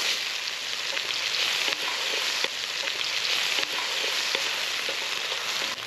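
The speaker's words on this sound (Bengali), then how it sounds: "প্রথমে আমরা দিয়ে দিলাম তেল তেল দিয়ে দিলাম তেজপাতা ফোড়ন শুকনো লঙ্কা ফোড়ন এইবারে দিয়ে দেবো পেঁয়াজ" Onions hit hot oil already seasoned with bay leaf and dried red chilli at an outdoor picnic cookout, sending up a loud, steady close-range sizzle with a few faint clicks of stirring and no voices.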